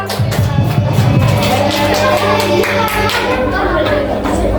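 A group of students in a classroom applauds, a steady patter of clapping mixed with crowd chatter and a voice speaking over it.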